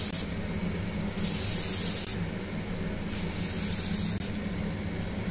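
Small palm fruit garelu (vadas) fry in hot oil, giving a steady, close sizzling hiss that swells in brief bursts and then settles, with no talk over it.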